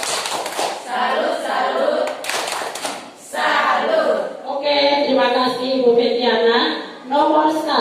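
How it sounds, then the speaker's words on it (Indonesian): A group of teachers and parents performs a 'tepuk salut' clapping cheer, rhythmic claps and thuds interleaved with voices chanting the cheer together in a loud, close room. "Tepuk salut. Salut, salut."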